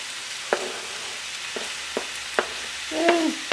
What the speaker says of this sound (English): I'm gonna add the scallions or the green onions first.